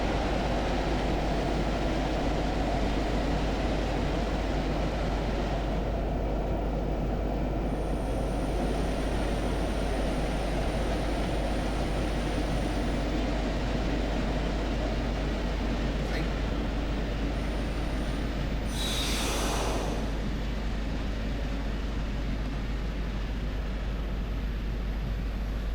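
A Class 117 diesel multiple unit braking on the North Somerset Railway in Train Simulator 2021, heard as a steady, loud rumble of wheels and engine with a faint whistling tone and a brief hiss of air near the end.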